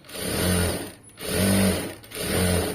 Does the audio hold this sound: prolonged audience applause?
no